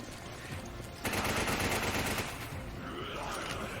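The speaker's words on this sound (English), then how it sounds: "as you can hear, on the corner we have the zombies already shooting at us" Automatic gunfire from zombie enemies in the Resident Evil 5 video game, a dense, loud burst of rapid shots that swells around the middle and then continues at a slightly lower level, with no voices over it.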